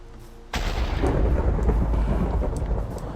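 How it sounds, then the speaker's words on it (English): A loud thunderclap crashes in suddenly after a quiet moment, then rumbles on with heavy rain hissing steadily during a thunderstorm in Minecraft. "I wish the rain would go away."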